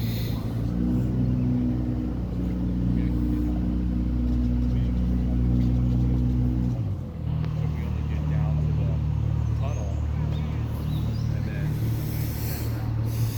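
A canal boat's engine idles on the Union Canal in Lebanon, Pennsylvania, a steady low rumble that drops to a lower, quieter throb halfway through, with people talking nearby.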